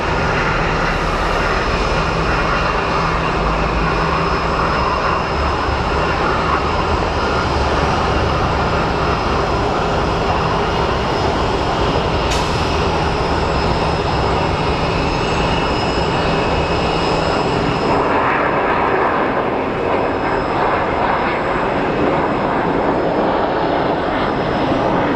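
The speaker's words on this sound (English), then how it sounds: "It's an Embraer 135, probably coming in from Page," A Contour Airlines Embraer 135 regional jet landing at Phoenix Sky Harbor Airport, its engines a loud, continuous roar that fills the whole stretch and eases slightly toward the end.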